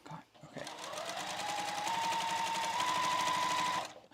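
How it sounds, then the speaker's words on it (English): A sewing machine stitches a fabric strip onto the top of a fabric ornament, running in a steady, close, continuous whir after a brief start and stopping abruptly near the end. "I'm just gonna sew it to the top of my ornament"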